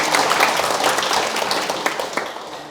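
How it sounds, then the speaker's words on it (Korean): An audience at a Sunday Buddhist Q&A lecture claps together, a dense, fairly loud burst of applause that holds for a few seconds and then slowly tapers off. "박수를 한번 칠까요?"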